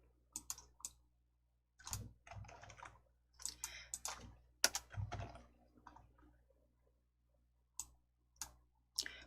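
Mouse clicks and computer keyboard key presses from a Hangul word processor exercise, with scattered clusters of close, crisp taps and clicks separated by short quiet gaps and no talking.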